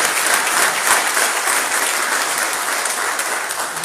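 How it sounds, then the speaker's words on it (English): Sustained, dense applause from a large audience greets the Chief of Army Staff at a formal military ceremony, a loud, steady roar of clapping that fills the whole moment with no one speaking over it. "May I once again call for a resounding applause for the Chief of Army"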